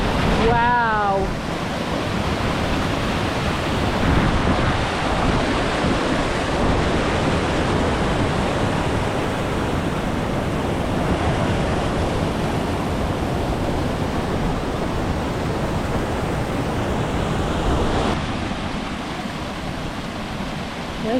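A steady, full roar of rushing water close by at Three Shires Head waterfall, constant throughout with no break, like a powerful waterfall.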